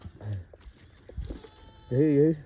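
A sheep lets out one loud, wavering bleat close by near the end, after stretches of quieter background talk and scattered farmyard noises.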